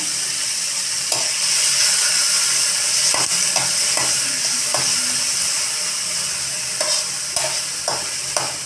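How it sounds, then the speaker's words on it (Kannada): Onions fry in a pan with a steady, loud sizzle while a spoon stirs and scrapes at intervals, making scattered clicks and knocks close by; no one speaks. "ಈರುಳ್ಳಿ ಹಾಕ್ರಿ ಇದ್ರೊಳಗೆ ಈರುಳ್ಳಿ ಹಾಕ್ರಿ ಅರ್ಧ ಹಿಡಿಯಷ್ಟು"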